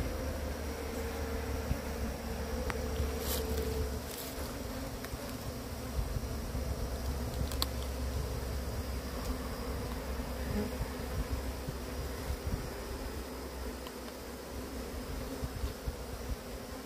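Bees buzz steadily around a wooden hive box, a dense continuous drone close by with occasional brief clicks and rustles, no talking.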